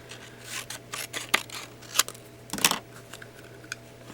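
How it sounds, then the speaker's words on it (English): Scissors snip repeatedly through fabric while cutting out a quilt sampler design, giving close, crisp cuts at an uneven pace with short pauses, and a steady low hum underneath. "I'm gonna have to cut it again."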